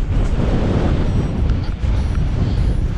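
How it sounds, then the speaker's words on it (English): Loud, blustery wind roars across the microphone in a constant low rumble while riding an Orbea Rise H15 electric mountain bike into a headwind in the Black Mountains, with no voices heard. "Windy, very windy. And I'm riding into the headwind."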